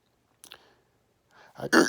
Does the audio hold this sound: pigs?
no